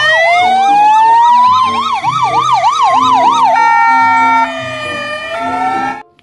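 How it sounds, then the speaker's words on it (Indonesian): A toy ambulance siren wails up and down loudly, then switches to a slower sweeping tone, over a stepped electronic tune. It plays alone, close and steady, for about six seconds. "Wow, lihat, ada mobil ambulan,"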